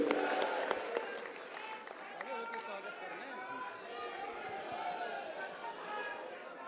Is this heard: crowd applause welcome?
yes